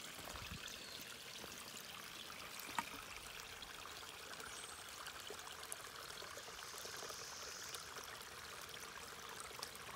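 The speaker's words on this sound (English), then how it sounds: "Now this is an interesting stream" A small Appalachian stream with bright orange sediment and leaves, heard as a faint, steady trickle and gentle flow of water, continuous and soft with no voices.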